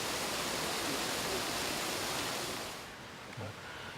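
Greenish acidic river water runs over volcanic boulders at Lingkok Kuwieng in Aceh, a steady broadband rush close to the microphone that eases slightly near the end.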